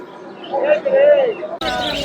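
Birds at the Fatullah weekly market, where parrots and chickens are sold, give a short cooing call close by, mixed with people talking.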